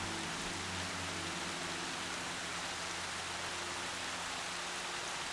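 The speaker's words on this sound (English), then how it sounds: "Rain's not so bad." Steady, even wash of rainfall in Horizon Zero Dawn, a broadband hiss with a low rumbling bed beneath, continuous and unbroken with no voices.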